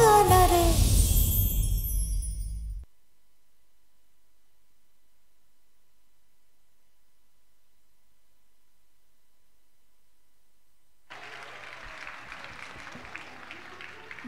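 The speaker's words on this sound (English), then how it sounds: "Audience, a huge round of applause for them." Loud applause from an audience at a music competition fills the opening seconds and fades out, followed by long silence before a fainter, noisy clapping-like hiss returns.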